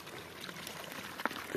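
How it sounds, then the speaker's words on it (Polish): A small woodland brook trickles over a tiny waterfall, a soft steady flowing wash close by with a brief splashy burst near the end. "wodospadzik, znaczy wodospadzik"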